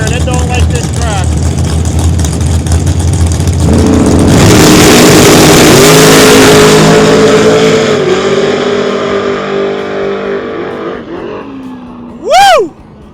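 A drag race car fitted with a new Mickey Thompson tire roars hard off the line and accelerates away down the track, the engine loud and close before fading, with a short sharp burst near the end.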